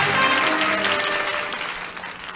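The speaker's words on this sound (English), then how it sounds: "There were some people that booed and some people that cheered a little bit" An audience at the Oscars applauds, a dense burst of clapping that starts loud and gradually thins over two seconds, with no distinct booing audible.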